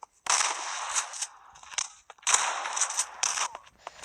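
Gunfire in the online shooter Koboom, crackly rapid bursts in two main volleys with scattered single shots between, bright and close, with no talking.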